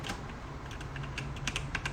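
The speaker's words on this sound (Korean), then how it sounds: "아주 기깔나는 키보드 ASMR 해드릴게요" Someone types fast and steadily on a computer keyboard, close and crisp, with no talking. The busy clatter of keys runs over a faint low hum.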